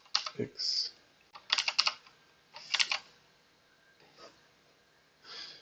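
Keys clacking on a computer keyboard as drawing shortcuts are pressed beside a graphics tablet, arriving in short bursts of quick taps with pauses between, close and clear with no talk.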